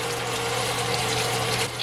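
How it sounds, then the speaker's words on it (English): Cold water runs from a kitchen tap to rinse honey off a cheap steak, a steady, close hissing gush with a low hum underneath that barely changes throughout. "Turn on the cold water,"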